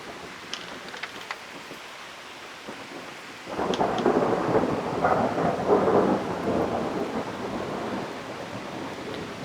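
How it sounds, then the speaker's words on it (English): Soft rain patters before a deep rumble of thunder rolls in and lingers for several seconds, loud and fairly close, during a southeastern Pennsylvania thunderstorm. "that was a really sweet sound of thunder"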